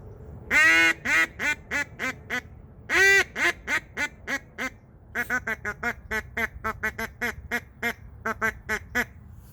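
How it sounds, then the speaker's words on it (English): A Duck Commander duck call blown in a hail-and-chop sequence: a few loud, drawn-out quacks, then a quick run of short, choppy quacks in a steady staccato rhythm, close and clear. "So I'm going to do that same call with the duck commander, same sequence."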